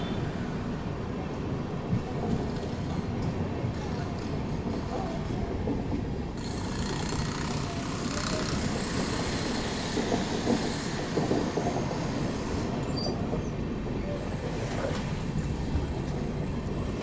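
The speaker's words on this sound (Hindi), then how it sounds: "अभी फाइनली अपनी ट्रेन निकल रही है बडनेरा जंक्शन से" A Mumbai–Howrah Duronto Express pulling out of Badnera Junction: continuous loud rumble of rolling wheels and carriages, with squealing and rattling on top, steady and close throughout, no talk.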